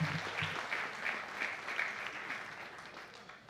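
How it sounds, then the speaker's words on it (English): Audience applause at a gathering, a sustained even patter of many hands heard fairly faint and distant, with no talk over it. "Let's all give ourselves one big round of applause."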